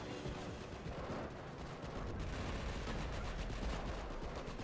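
Mortars firing in a video game battle, a dense run of booming blasts and crackling gunfire that carries on without a break across the whole stretch, with no voices over it.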